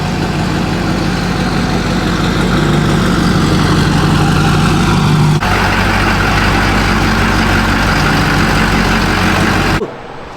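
Big, 20-year-old rusty Duramax diesel pickup engine idling up close, a loud, steady low rumble that continues unbroken before cutting off abruptly near the end.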